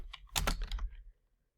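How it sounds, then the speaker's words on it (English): A few quick keystrokes tap on a computer keyboard close by, a short clustered burst that fades to quiet within about a second. "If I type something right here"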